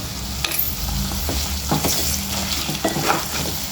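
Chicken with crushed garlic paste and curry leaves fries steadily in a pan on low heat, a constant close sizzle broken by several scraping stirs of a spatula, with no talking.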